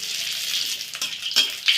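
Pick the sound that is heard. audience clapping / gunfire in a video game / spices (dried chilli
spices (dried chilli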